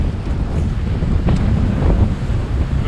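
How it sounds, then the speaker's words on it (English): Strong wind roars steadily across a river on a wilderness canoe trip, buffeting the microphone with loud, constant rumbling and faint water wash beneath, with no voices. "The wind is really blowing us around in here."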